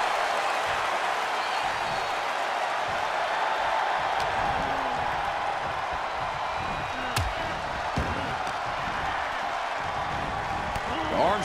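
A roaring arena crowd in a WWE 2K24 women's championship wrestling match, a dense, steady wall of cheering noise throughout, with occasional thuds and slams rising briefly above it.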